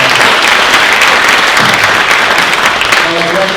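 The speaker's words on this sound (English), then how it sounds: "Can we give how about one more round of applause?" Loud, sustained applause from an audience at a university awards ceremony, a thick continuous roar of clapping hands that stays close and even from start to finish.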